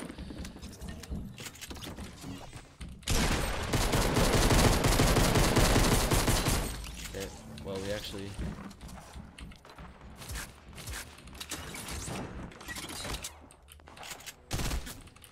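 Heavy gunfire in a Fortnite Battle Royale match, a dense loud burst of shots lasting several seconds followed by scattered shots and game effects, with no talk over it.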